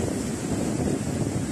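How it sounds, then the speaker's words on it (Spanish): Heavy sea waves churned up by Hurricane Eta wash and roll continuously beneath strong gusting wind, a dense, steady roar with no distinct breaks and no talking. "Pero sí está algo fuerte el viento y el oleaje."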